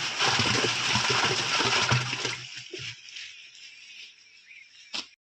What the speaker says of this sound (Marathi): आता टाकूया एक किलो गूळ